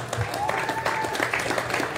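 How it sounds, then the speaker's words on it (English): A short burst of applause from a crowd at a boys' ice hockey team event, clapping fast and dense for a couple of seconds. "Well, we should clap for that."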